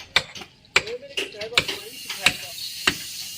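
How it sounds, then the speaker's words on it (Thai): A carpenter hammers on a fishing boat hauled up on a slipway for repair, sharp nail-driving blows landing in an irregular series of about seven strikes at moderate distance. "นี่ครับช่างกำลังตอกอยู่นะครับผม"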